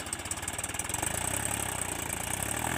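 A Mahindra 275 DI tractor with a trolley, rear tyres sunk in mud, chugs in a low rhythmic idle, then revs harder and steadier as it strains to pull free. The engine sounds fairly quiet and distant.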